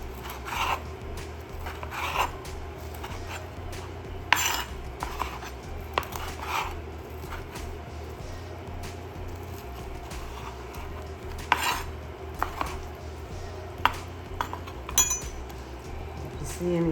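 Knife chopping cooked lobster meat on a board for truffle mac and cheese: irregular soft taps and scraping over about seventeen seconds, with occasional sharper clinks of the blade, close and moderately quiet.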